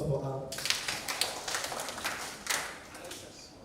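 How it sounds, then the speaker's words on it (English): Audience applause at a sickle cell prevention event in Rivers State: a fairly loose, modest round of hand claps that starts abruptly and carries on for a few seconds before tapering off, with a voice audible around it. "With a round of applause for her"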